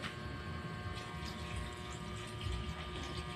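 Water is poured into a cooking pot of simmering sotanghon noodles, a continuous dense rushing hiss that stays steady and close throughout.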